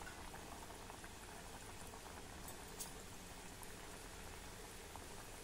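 Kanavle, sweet jaggery-filled wheat dough dumplings, deep-frying in oil over low heat, a steady dense bubbling and sizzling hiss that holds even and continuous throughout, with no talking.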